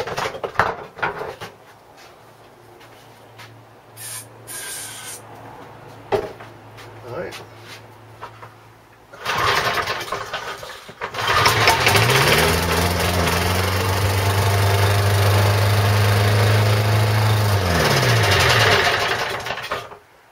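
A Billy Goat lawn vacuum's petrol engine, with fuel poured into the carburettor, sputters through starting attempts and then catches and runs loud and steady at close range with a droning hum before cutting off. Scattered handling noises come before it.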